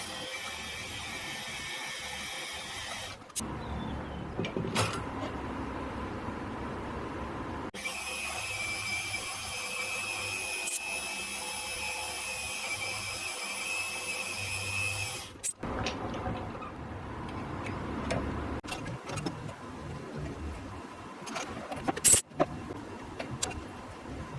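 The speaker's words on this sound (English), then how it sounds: "So let's get a few holes drilled and tapped in here." A power drill bores and taps holes in a metal part for a 90-degree gearbox in a machine shop, with long stretches of steady whirring broken by pauses, clicks and a few clanks of tools.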